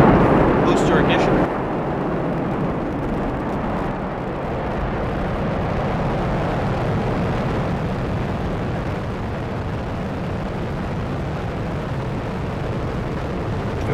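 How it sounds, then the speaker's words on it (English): The Space Shuttle Endeavour's boosters ignite at liftoff. A massive, continuous roar of rocket thunder fills everything, with a brief sharper crackle at the start before the deep rumble settles into a sustained, heavy wash. "Booster ignition."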